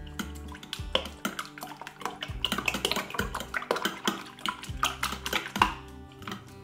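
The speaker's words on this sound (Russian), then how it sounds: "Вилочкой перемешиваем, чтобы желтки смешались с белками." A fork clicks and taps against a bowl while whisking eggs for an omelette, in quick irregular strokes heard close up with no talking.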